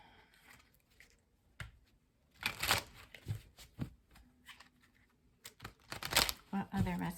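Oracle cards being shuffled in bursts of crisp riffling and flicking, close by, with a voice talking between and over the shuffles.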